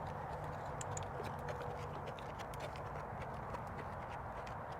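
Horse hooves clip-clopping steadily at moderate distance through continuous background ambience, with no talk.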